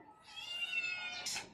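A house cat meows in one drawn-out, rising call during a morning feeding routine at home, close and fairly clear against a quiet room, ending in a brief brighter squeal.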